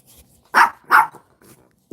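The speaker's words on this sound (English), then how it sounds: "He's even barking at me." A dog barks in short, sharp bursts, two close together and then a third after a pause. The barks are loud and near.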